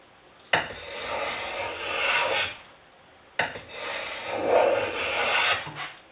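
A restored Stanley S18 steel block plane shaves walnut in two long, rasping strokes, each starting with a sharp bite and separated by a short pause.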